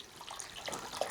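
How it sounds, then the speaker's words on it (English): Water pours into a 1 gallon measuring cup while a lye tank is being set up, giving a steady, close, trickling wash of liquid for about a second with no talking. "So we're going to pour 1 gallon of water,"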